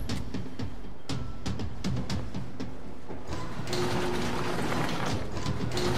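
A mechanical door mechanism in Max Payne 3 clicks and ratchets in a series of sharp clanks, followed by a steadier grinding whir as it opens.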